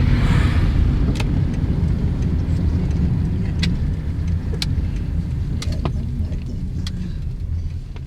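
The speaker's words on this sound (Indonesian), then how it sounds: "2 truk mengangkut sampah plastik keluar dari pabrik" Trucks carrying plastic waste rumble out of a paper factory in an industrial area, a loud, steady low engine drone close by with occasional faint clicks and knocks.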